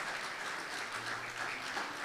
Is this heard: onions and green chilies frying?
no